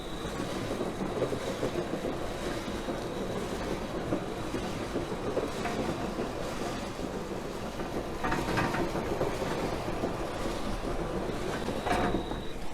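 A Highlight Synergy 0.5 stretch film pallet wrapper running in a packaging setting, giving off a continuous, fairly quiet mechanical rumble and rattle with a faint whine, steady throughout.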